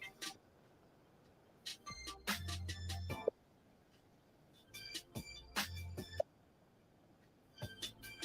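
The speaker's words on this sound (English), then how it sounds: "I'm calling you. Pick up the phone." Phone ringing during an outgoing call, a repeating electronic ring tone in three separate bursts with quiet gaps between them, clear and fairly faint with no talk over it.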